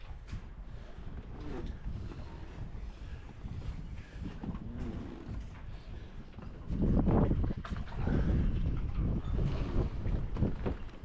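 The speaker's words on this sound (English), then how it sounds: "It's a bit windy and chilly today." Steady wind buffets the microphone in a low, rumbling roar on a ferry ride to Quathiaski Cove, Quadra Island, swelling louder near the end, with faint lapping water and a brief voice in the background.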